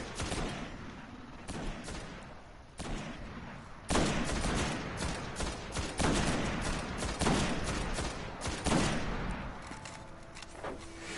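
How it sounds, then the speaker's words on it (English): Enemy gunfire in a video game, a sustained fusillade of rapid shots and bursts rattling continuously for several seconds, fairly loud with dense overlapping reports and no voices. "It's firing at us, be careful."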